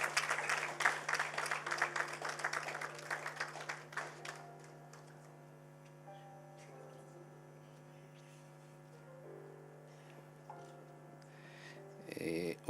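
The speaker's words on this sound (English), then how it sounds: "Can we give him a huge round of applause?" Applause at an academy of sciences launch event, a burst of audience clapping over the first four seconds that fades into a steady mains hum, with a few faint taps and a short noise near the end.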